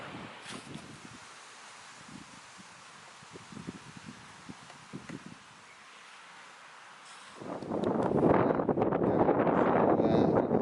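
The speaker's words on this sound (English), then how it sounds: "Hear me over this wind." Wind blows across an allotment, quiet gusty rustling at first, then a loud roaring buffet of wind on the microphone through the last few seconds.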